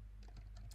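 Fingers tap a computer keyboard on a Raspberry Pi 4 running Chromium OS, producing quick, quiet, uneven keystrokes in short bursts close by.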